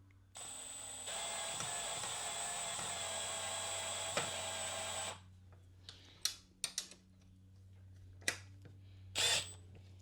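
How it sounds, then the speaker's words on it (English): Power drill running steadily for several seconds while a Minn Kota Terrova 24V bow trolling motor is installed on a Native Watercraft Hammer 12, then stopping, followed by scattered clicks and a few short handling knocks. "I'm going to use a drill just because I'll be here for like 30 minutes"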